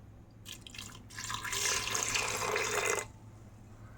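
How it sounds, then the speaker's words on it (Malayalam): Water is poured from a vessel into salted vegetables in a pot while making sambar for Onam, a steady splashing pour lasting a couple of seconds at moderate closeness, then stopping. "കുറച്ച് വെള്ളം ഒഴിക്കാം"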